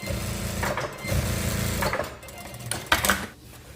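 A sewing machine topstitches seams on a windbreaker jacket, running in several short bursts with brief pauses between them at close range, with no talk over it.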